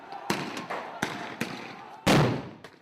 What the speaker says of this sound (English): The silence is shattered by gunfire in the distance